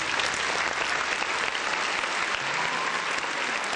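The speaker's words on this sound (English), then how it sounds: "Round of applause, man." Steady applause from a gathered crowd fills the whole stretch, a dense even clatter of many hands clapping at constant loudness with no break.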